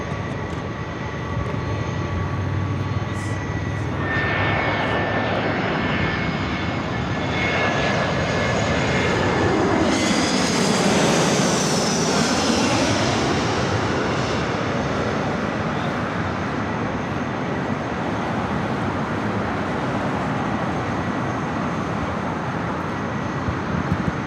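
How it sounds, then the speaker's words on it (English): A Delta 767 jet airliner at LAX, its engines building into a loud, broad roar that swells past at close range and then settles into a sustained rumble. "That Delta 767 lined up there on 24 left, followed by the flight to Dulles."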